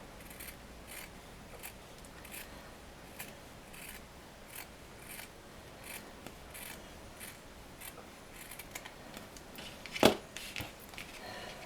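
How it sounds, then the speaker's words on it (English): Scissors snip repeatedly through fabric in a steady rhythm, close and fairly quiet, with one sharper, louder cut near the end. "Then that lower line there, that gets cut straight with your scissors"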